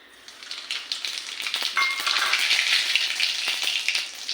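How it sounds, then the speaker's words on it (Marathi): Cumin and mustard seeds crackle and sizzle in hot oil in a kadhai, starting quietly and building to a dense, busy spatter with sharp little pops. "कढई ठेवलेली आहे, त्याच्यामध्ये तेल टाकले। आता जिरं मोहरी टाकायची आहे"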